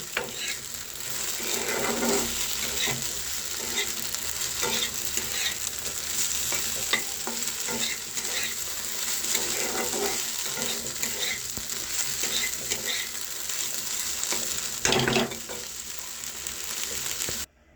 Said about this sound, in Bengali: ভেন্ডি ভাজাটা আমার হয়ে গেছে।